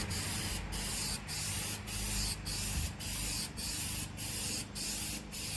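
Spray paint can laying a first coat on Fiat 500 roof trim, a loud continuous hiss in about ten even bursts with short regular breaks, close up and with no talking.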